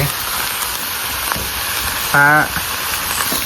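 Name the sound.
spicy pork frying in a pan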